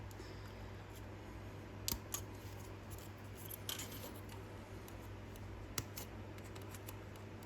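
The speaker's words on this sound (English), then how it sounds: "So the first thing I do is just cut out this base, and I'll just use these sprue snips" Sprue snips cutting a plastic base from the sprue of a 1/100 scale BTR-60 model kit, giving a few sharp, close clicks spread over steady quiet room hum.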